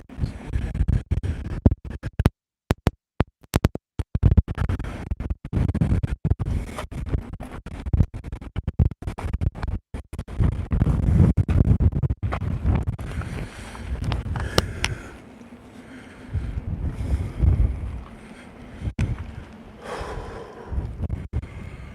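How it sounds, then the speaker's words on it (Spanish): Wind gusts roar around a stone house at La Rumorosa, a rough, rumbling rush that swells and drops with heavy buffeting against the microphone and brief near-silent gaps. "Es un viento."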